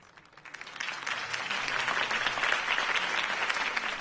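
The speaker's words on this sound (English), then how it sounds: "If only Mr. Wayne, my campaign's largest backer, could have heard that applause" Applause from a large crowd in a video game after a campaign speech, swelling up quickly and holding as a dense, steady wash of clapping.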